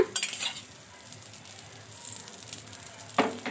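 Oil sizzling in a frying pan as food is turned and fried, a bright crackling hiss with a few louder bursts and faint utensil clinks, no talking.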